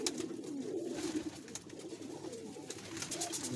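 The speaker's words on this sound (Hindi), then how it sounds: "ਇੱਕ ਹੈ ਫਿਰੋਜ਼ਪੁਰੀ ਕਬੂਤਰ" Ferozpuri pigeons coo in low, soft, rolling calls, repeated steadily at close range with faint rustling around them.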